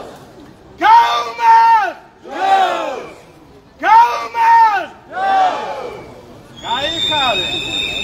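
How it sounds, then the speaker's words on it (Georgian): An outdoor protest crowd in Batumi chants a rallying cry in loud, rhythmic bursts, repeating it several times with short gaps before a final, more ragged shout. "აი ესეთი შეძახილები ისმის საკონსტიტუციო სასამართლოსთან დღეს საღამოს"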